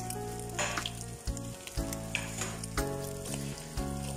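Chopped onions sizzling in a hot pan, with a steady loud crackling fry and occasional stirring scrapes, close up with no talking.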